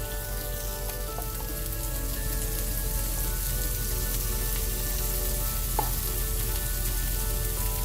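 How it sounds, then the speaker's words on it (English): Caramelizing apple slices sizzle steadily in a hot pan, a dense, even frying hiss that runs unbroken throughout with a faint utensil tap near the end, close and alone without talk. "Okay, I'm going to flip our apples."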